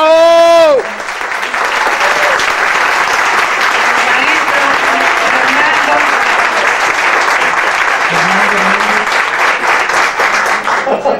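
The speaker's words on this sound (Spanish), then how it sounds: "quiero que les den un aplauso a ellos" A theatre audience at Repertorio Español in New York gives strong, sustained applause to the band accompanying a singer, loud and dense throughout. A voice rings out at the start and faint calls come from the crowd.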